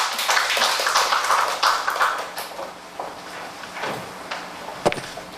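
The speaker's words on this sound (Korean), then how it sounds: "박수로 맞이해 주시기 바랍니다." Scattered clapping from an audience at a Korean childcare community forum, welcoming a presenter to the front, fairly close and irregular, thinning out over several seconds with a few isolated knocks.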